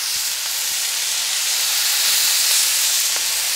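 Spiced prawns sizzle in a hot pan as they are flipped, a loud dense hiss that stays steady and close, with a few faint ticks and no voices over it.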